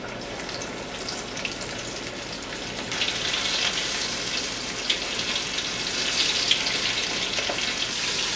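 Chicken lollipops deep-frying in hot oil, a continuous close hiss and crackle of bubbling oil that grows slightly louder partway through, with no talking.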